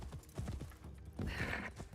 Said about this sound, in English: you are riding a horse